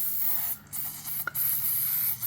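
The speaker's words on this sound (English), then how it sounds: "now we're going to spray the snot out of these" An aerosol can sprays lubricant onto the power seat gears of a 1968 Cadillac Sedan DeVille in a workshop, a close, steady hiss broken by brief pauses and small handling noises.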